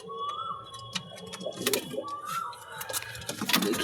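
Pigeons cooing from an old male bird on a rooftop loft, soft low coos repeated under background noise and a nearby voice.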